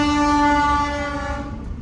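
A train passes Lathi railway station sounding a loud, sustained horn with a rich, steady tone that fades slightly toward the end, with rumbling rail noise underneath.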